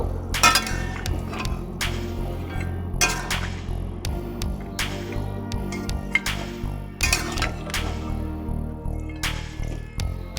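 Drumstick vegetables stirred in a cooking pan, with repeated metallic scrapes and clinks of the spoon against the pan over a steady low background, close and fairly loud.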